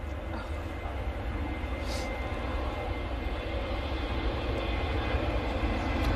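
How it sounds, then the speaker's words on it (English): A TUI Boeing 737-800 begins its takeoff roll at Manchester Airport, a steady, fairly faint jet roar that holds level and distant throughout, with no talk. "TUI 737-800 now on the roll to Orid"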